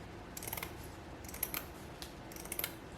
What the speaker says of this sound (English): take one of the stitched edges of the ribbon I would cut a few inches